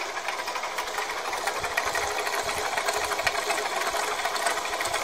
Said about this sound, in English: Just using this little old mini lathe over here.